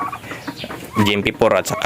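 Farm turkeys with clipped wings, kept as poultry and fed on feeds, give rapid gobbling, clucking calls close by, with a voice briefly speaking over them.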